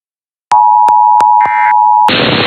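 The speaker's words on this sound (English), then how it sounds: "This concludes the test of the NOAA Radio Warning Alarm and Emergency Alert System" NOAA weather radio emergency alert, a loud steady electronic tone cut by sharp clicks, joined by a brief higher tone, then giving way to a harsh burst of noisy data.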